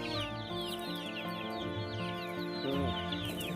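Desi chickens clucking on a poultry farm, with several birds giving continuous overlapping clucks and short calls nearby, no talk.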